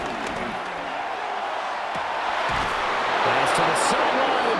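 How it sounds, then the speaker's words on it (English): Stadium crowd roar in Madden NFL 26 during a Dolphins at Lions preseason game, a broad swelling noise building louder toward the end, with a commentator talking over it. "This crowd turning up the decibel level."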